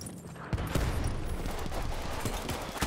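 Rapid gunfire in a Battlefield 1 match, a dense fusillade of shots rattling continuously for a few seconds at close range with no talking over it.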